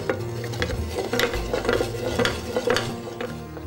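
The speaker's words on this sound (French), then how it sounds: "Et nous allons donc monter notre sauce au beurre." A utensil stirs a butter sauce being mounted in a pan, with soft scraping and light clinks against the metal over a faint sizzle, close and steady with no speech.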